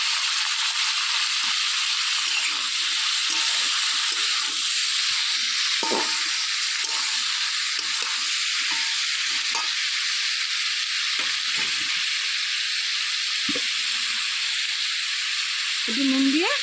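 Chopped tomatoes, carrots and peas fry together in a pan, giving a loud, continuous sizzling hiss with occasional soft stirring scrapes and no talking.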